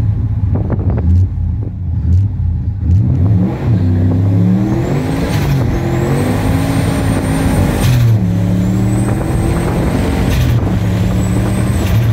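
A boosted car engine running at 15 psi of boost revs up hard several times, loud and close, its pitch climbing and falling in bursts, with faint high whines from the forced induction and no talking.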